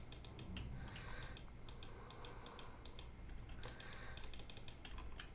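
Rapid computer clicking during play of the prison-building game Prison Architect, quick crisp bursts of clicks in clustered runs over a low steady background hum, no voices.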